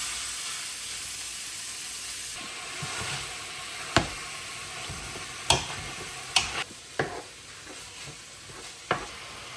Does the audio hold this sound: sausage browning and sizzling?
yes